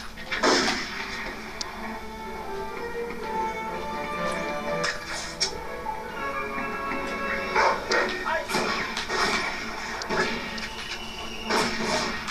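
Barking from a dog in the World War II shooter game Medal of Honor, repeated sharp yaps amid game noise and bursts of gunfire, with a player talking over it.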